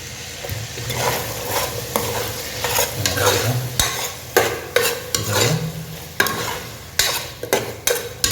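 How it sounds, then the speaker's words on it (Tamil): Turmeric being stirred into bottle gourd, potato and mutton frying in a pan, with a steady sizzle under repeated scraping strokes of a spoon against the pan, close and fairly loud, no voices. "இது கொஞ்சம் நான் மஞ்சள் தூள் மிக்ஸ் பண்ணிக்கிறேன்"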